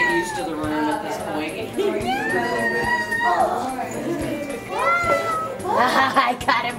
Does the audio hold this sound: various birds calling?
no